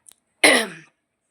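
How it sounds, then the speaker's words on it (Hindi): A single short, harsh cough or throat-clearing bursts out close by after a moment of near silence, lasting under half a second, with no talking. "खांसी हो रही है"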